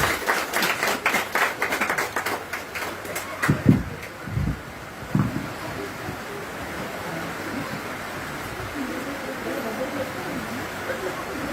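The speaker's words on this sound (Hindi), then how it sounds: "जब ये लोग काटेंगे तो जोरदार ताली बजाएंगे" Guests at a wedding celebration in Narere applaud as the couple cuts the cake, a burst of loud clapping for about four seconds that fades into crowd murmur and someone speaking.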